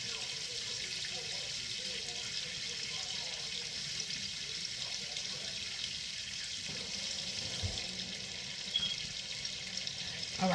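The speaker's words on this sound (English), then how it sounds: "Let me wash my hands." Water running from a kitchen tap during handwashing, a steady low hiss of flow into a sink with faint splashing and a few small knocks near the end.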